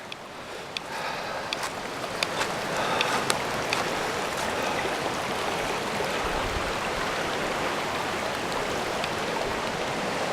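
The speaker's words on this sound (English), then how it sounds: "Got water pouring up out of this spot here" Spring water wells up out of saturated ground beside a creek after heavy rain, a steady broadband rushing and gurgling flow with a few faint clicks early on, continuous and close.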